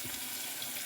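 Water tap running into a sink while hands are washed, a steady faint hiss of flowing water for under a second, with no voices.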